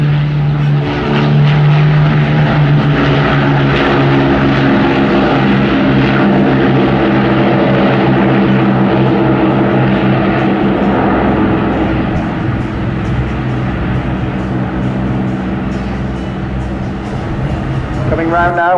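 A Battle of Britain Memorial Flight propeller warbird makes its final pass at an air festival, a loud, sustained piston-engine drone that swells and slowly fades, with a commentator speaking over it.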